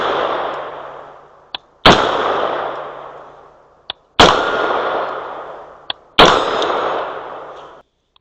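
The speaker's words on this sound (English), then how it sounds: "so I'll put a couple rounds, I'll see if it's anywhere close to zeroed" Rifle firing Lake City M193 rounds outdoors during zeroing: three loud, sharp shots spaced a couple of seconds apart, each followed by a long decaying echo and preceded by a small metallic click.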